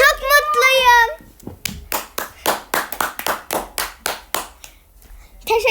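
After a child-like voice speaks, a run of roughly eleven crisp, regular hand claps follows at a steady pace, close and clear with nothing else over them, before talk resumes.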